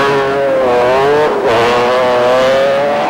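Race cars on ice at the 1993 Trophée Andros in Val Thorens, one powered by a 16-valve Ford Cosworth turbo engine, roar loud and close with steady high engine notes that dip briefly mid-clip and climb again.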